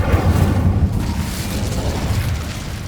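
A fiery spell bursts in the Hogwarts Legacy video game: a loud, low rumbling boom that holds steady over about three seconds, with no talk.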